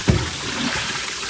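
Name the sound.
tap water running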